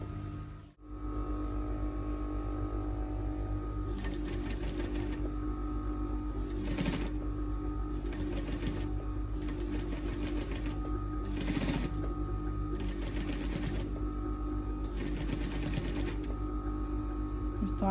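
A sewing machine stitches patchwork fabric strips in several runs of rapid, even whirring, each lasting a second or two, with a steady electrical hum running underneath throughout.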